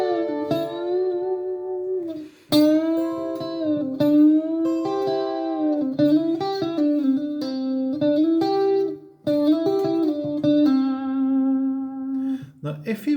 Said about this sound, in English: Exercise 2 of Guitar Riffs page 1 should sound like this.